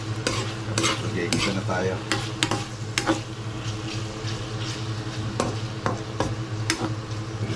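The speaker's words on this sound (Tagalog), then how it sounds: "Sumasagitsik na. Ayan, may konti-konti na siya mantika." Food sizzles and crackles in hot cooking oil in a pan, a steady frying hiss broken by sharp scraping stir strokes, while someone speaks briefly in Filipino.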